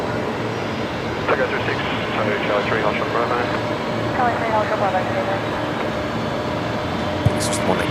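An airplane lands at Brisbane Airport as a steady, distant roar of engine noise holds throughout, with faint talk underneath.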